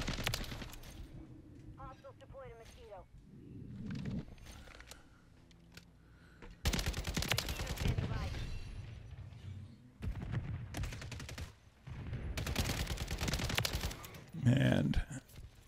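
A JAK Requiem gun firing in a video game, several loud bursts of rapid automatic fire separated by quieter stretches, with someone talking between and under the shooting.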